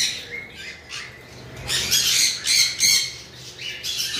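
A pair of large English exhibition budgerigars squawk close by in a run of harsh, scratchy bursts that grow louder and more frequent toward the end, with no talk.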